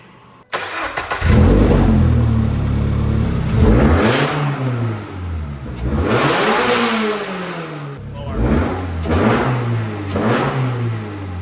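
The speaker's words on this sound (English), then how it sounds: "You do hear a little bit of induction noise when you just kind of slam the throttle really quick." A Toyota GR86 with its factory intake starts and revs sharply several times, each blip climbing and falling back, loud and close, with exhaust roar and a touch of induction noise on each throttle stab.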